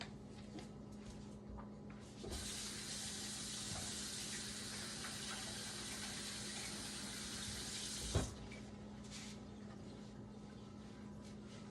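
A kitchen tap runs steadily for several seconds while hands are washed before mixing meatloaf, a soft even hiss of water that starts abruptly and stops with a faint thump, heard alone in a quiet room.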